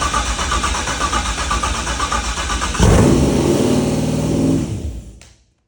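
An LT1 V8 swapped into a Mustang cranks and fires up loud and close, running at high revs for a couple of seconds before being shut off and fading to silence.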